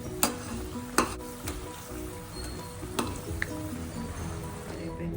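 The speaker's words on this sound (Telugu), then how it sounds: "ఇలా ఆయిల్ సపరేట్ అయ్యేదాకా చింతపండు గుజ్జుని వేయించుకోవాలి." Tamarind pulp fries in oil with a steady close sizzle, broken by a few sharp clacks and scrapes of a spoon stirring against the pan, with no talk.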